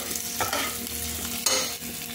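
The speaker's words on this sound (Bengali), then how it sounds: "নুন দিয়ে আবার ভালো করে নেড়ে নিচ্ছি।" Onions sprinkled with salt sizzle in a pan over a low gas flame while a spoon stirs them, with close scraping strokes that rise and fall over a continuous frying hiss.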